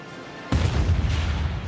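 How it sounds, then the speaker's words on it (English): A single cannon boom at a crowded street parade honoring Joffre and Foch, breaking in abruptly after a quiet moment and followed by a loud, sustained roar of echo and crowd noise to the end. "A cannon booms"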